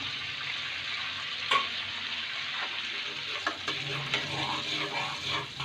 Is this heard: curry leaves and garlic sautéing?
yes